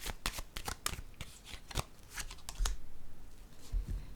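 Tarot cards are shuffled up close in quick riffling and tapping bursts, soft and crisp, with no one talking over them.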